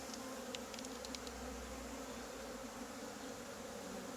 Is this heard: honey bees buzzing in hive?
yes